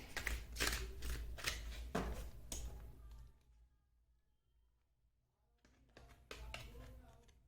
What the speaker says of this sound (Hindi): मैं कुछ कार्ड्स और निकालूंगी